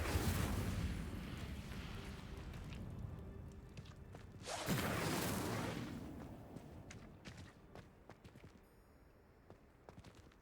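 Hogwarts Legacy spellcasting of Incendio, a loud roaring fire whoosh that swells, then a second burst around the middle, fading into crackles and scattered clicks and footsteps.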